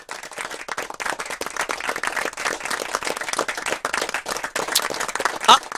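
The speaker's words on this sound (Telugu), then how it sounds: "అరే చప్పట్లు కూడా కొడుతున్నారే" Crowd applause and clapping at a celebration, a steady dense patter of many hands held throughout at moderate loudness with a sharp whistle-like burst near the end.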